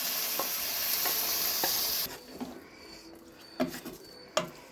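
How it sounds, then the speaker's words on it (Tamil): Tamarind water poured into a hot pan for brinjal and field bean kara kuzhambu hits with a loud sizzling hiss that cuts off after two seconds, followed by quieter clinks and soft cooking sounds. "நம்ம கரைச்சி வச்ச அந்த புளி தண்ணியை ஊற்றிக்கலாம்"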